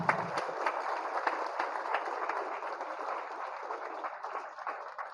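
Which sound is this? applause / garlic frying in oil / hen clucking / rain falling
applause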